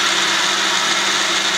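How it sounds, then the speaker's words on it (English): A kitchen blender runs steadily while making juice inside a truck camper, giving a loud, continuous whirring roar close by with no voices. "hopefully throwing it in a blender will repurpose."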